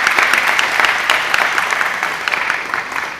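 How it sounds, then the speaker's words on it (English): Audience applause at a sponsored community program, a loud, close, steady patter of many hands clapping that carries on for a few seconds and slowly eases off, with no speech over it. "Round of applause for Atmos Energy."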